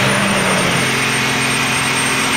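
Diesel pickup truck engine idling with a steady, low grumble and constant broadband rumble, loud and close, no voices.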